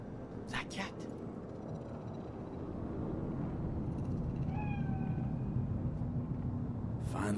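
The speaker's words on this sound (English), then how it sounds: "Do you see it? That cat?" A cat in Cyberpunk 2077 gives a single short meow partway through, set against a low ambient city rumble in the game, with a few brief clicks heard.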